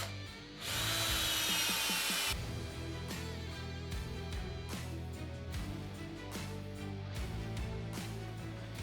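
A power drill drives black screws into wooden braces on a reclaimed log table, a loud whirring burst followed by repeated shorter whines and clicks as the screws bite into the wood.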